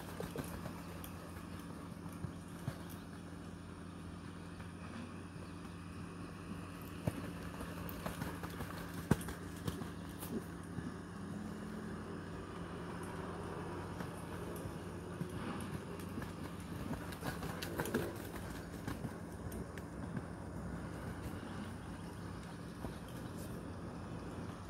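Hooves of a mare clip-clop steadily on the ground at a ranch, faint and fairly distant, with a low background rumble throughout and no talk.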